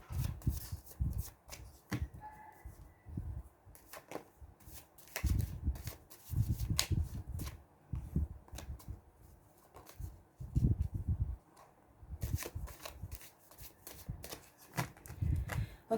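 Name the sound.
shuffling tarot cards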